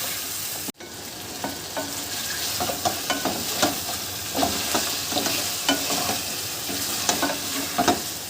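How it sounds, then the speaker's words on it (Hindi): Chicken frying in a pan with ginger and garlic gives a steady, close sizzle, with soft spoon scrapes and stirs ticking through it at an uneven pace and one sharp knock near the start, with no voices. "अब हम इसको अदरक लहसुन के साथ इसकी भुनाई करनी है।"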